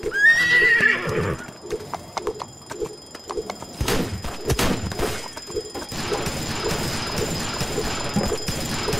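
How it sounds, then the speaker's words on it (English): A horse whinnies loudly in a Roblox game, then steady clip-clopping hoofbeats follow at a trotting rhythm, with a few thuds and a brief rushing burst partway through. "Let me call my horse."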